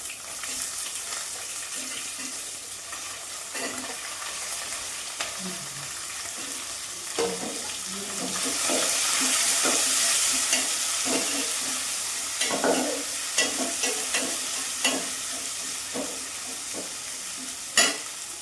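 Sliced onions frying with dried shrimp for a gongura curry, a steady hiss of oil under repeated scraping and stirring strokes, louder and broader in the middle stretch, with no talk.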